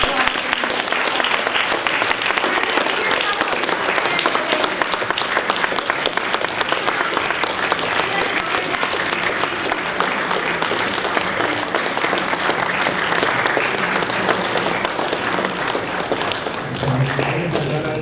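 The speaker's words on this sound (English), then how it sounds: "I ask you in this time to applaud yourself" Audience at an awards presentation applauding steadily, a dense, even wash of clapping from many hands that carries on for about eighteen seconds with little change in loudness.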